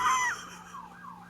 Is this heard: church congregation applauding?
no